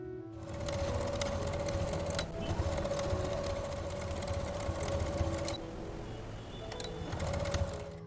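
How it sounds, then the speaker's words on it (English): A sewing machine stitching a strap onto a fabric knot pouch, a steady close whirring hum with rapid needle chatter running for several seconds, dipping briefly twice before resuming. "we'll be making a stitch, that is to attach it together"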